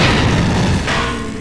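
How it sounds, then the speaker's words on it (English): A droid is detonated in System Shock 2, producing a single loud, close boom that rumbles and slowly fades over about a second. "Now we've got another droid. Let's detonate it."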